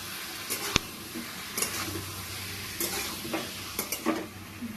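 Potatoes coated in turmeric and Kashmiri chilli powder are stirred in a hot pan, giving a low sizzle with repeated scraping strokes and a sharp clack of the spoon against the pan.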